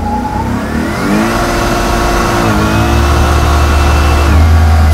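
An 800 hp custom twin-turbo Chevelle SS on 22-inch wheels roars loudly and steadily through a burnout, the engine note rising and holding close by for the whole stretch with no talk.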